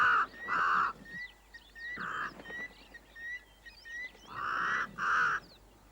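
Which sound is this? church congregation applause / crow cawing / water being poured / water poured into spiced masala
crow cawing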